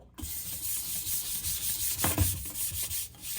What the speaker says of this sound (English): I'm just gonna scrub my sink